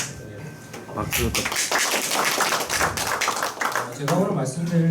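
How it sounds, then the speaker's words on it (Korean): Audience clapping at a clinical ultrasound lecture, a short burst of close, crisp handclaps from a modest crowd lasting several seconds, with a voice briefly heard at the start. "박수"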